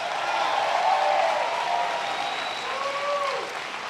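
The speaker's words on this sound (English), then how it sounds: "give her a big round of applause" An audience at a speech bursts into a big round of applause, a dense sustained clatter of many hands clapping at once, loud and continuous and slowly tapering over a few seconds.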